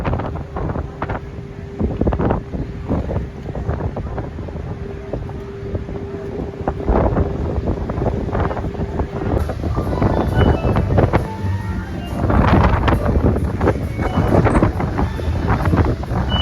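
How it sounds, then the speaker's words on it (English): Strong wind buffets the microphone in a steady roar with gusty swells aboard the Carnival Magic cruise ship, alongside a low engine-like hum, with no talking. "It is so windy."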